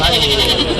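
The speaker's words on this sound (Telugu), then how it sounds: "మొత్తం మేకపోతులే" Male goats at a village livestock market bleat loudly and close by, a short wavering cry that fills the whole moment amid crowd noise.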